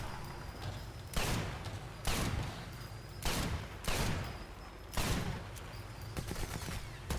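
Luger pistol fire in the video game Sniper Elite 4, with several loud, sharp shots in irregular bursts over a steady background of game ambience and rumble.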